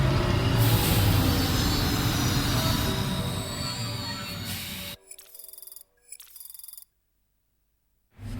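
Monorail in the Death Stranding 2: On the Beach video game rumbling along loudly for about five seconds, then cutting out abruptly into near silence broken by two short faint electronic bursts.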